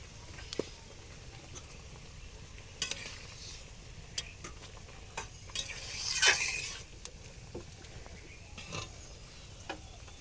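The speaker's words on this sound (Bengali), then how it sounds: "ভালো করে মিশিয়ে নিলাম" A spoon stirs and scrapes turmeric into a fish curry in a pot, soft clinks and scraping strokes that come now and then over a quiet kitchen background with a faint sizzle.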